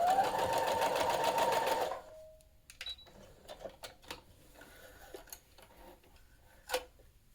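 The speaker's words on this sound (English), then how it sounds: "I'm just going to run that line of stitches right off the end." A sewing machine runs a fast, steady line of stitches for about two seconds while sewing a dart in fabric, then stops, followed by quiet clicks and small handling sounds.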